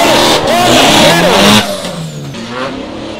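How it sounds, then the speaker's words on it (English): A drift car revs hard on the throttle at a motorsport drift competition in New Zealand, its engine screaming loudly with rising and falling pitch, then easing off as another car's engine continues in the background. "Lincoln Willett on the pedal"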